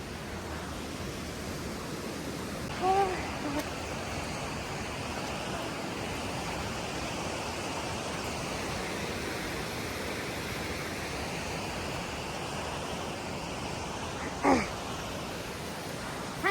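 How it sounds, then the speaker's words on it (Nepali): Steady broadband rush of the Dholi river stream flowing in a Nepali village, an even continuous wash with a couple of brief faint bumps and no talking. "यो चाहिँ हाम्रो ढोली खोला रहेको छ"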